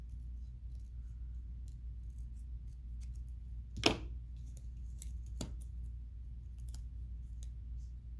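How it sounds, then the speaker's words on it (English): Scissors snip a thin white strip of paper for a journaling craft: a few soft, faint clicks, one sharper cut near the middle, all quiet and close with no talking. "I'm just going to cut that little white line that's bothering me"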